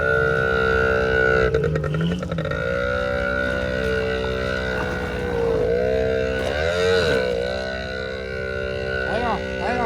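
Off-road vehicle driven by a seven-year-old revs up as gas is applied, a loud steady engine drone with rising, shifting pitch sweeps near the mic throughout, with voices mixed in.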